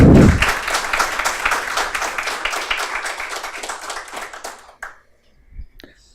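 Dense, steady clapping from an audience at a hospital medical lecture honoring the hospital's founder, loud from the start and fading out after about five seconds, followed by a few faint bumps.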